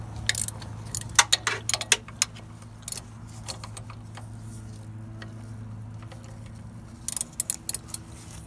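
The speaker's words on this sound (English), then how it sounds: "I'm using a ratcheting wrench" Ratcheting wrench loosening bolts on the 3.3L engine of a 2007 Chrysler Town and Country during a water pump replacement: close, sharp bursts of rapid clicking with quiet stretches between, then a final short run of clicks.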